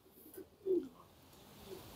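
A single soft coo from a racing pigeon at a loft rises briefly from a quiet outdoor background, with a fainter coo following near the end.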